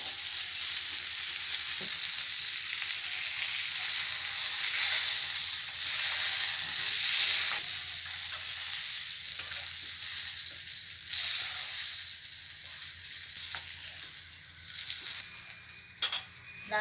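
Japani puthi fish fry in hot oil in a pan, giving a steady close sizzle that eases slightly toward the end, broken by a few light clinks and scrapes.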